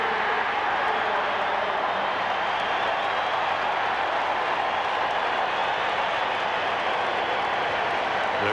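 A baseball crowd at an Orioles versus Angels game in 1995 roars after a home run, a dense, sustained wash of cheering and clapping from a large stadium audience, steady throughout with no clear individual voices.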